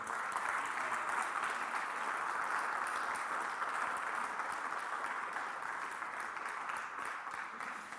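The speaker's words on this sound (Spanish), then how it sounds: "¿Lo puede festejar con un aplauso eso o no?" Church congregation applauding during a Spanish-language sermon, a steady wash of clapping heard from some distance at moderate level, holding even throughout.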